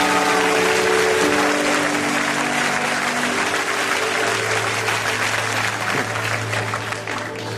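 A church congregation claps and cheers in sustained, loud applause that fills the whole stretch, with a few crowd voices mixed in and a low tone droning beneath toward the end.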